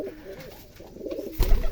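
A female Rajshahi Giribaz pigeon coos softly at close range, a brief low murmuring call over faint background noise.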